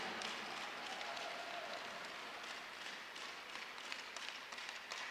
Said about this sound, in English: So a huge round of applause goes out to both teams